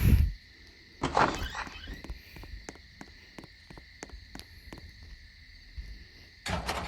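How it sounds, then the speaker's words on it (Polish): Doors are shut indoors in a police station: several dull thuds and clunks spread across a few seconds, with a sharp bang near the start and another near the end, fairly close and without speech. "Zamknij wszystkie drzwi, zamykam."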